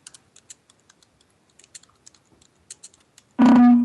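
Rapid irregular clicks of computer keyboard typing and backspace presses, close and crisp, ending in a sudden louder tonal burst from the computer.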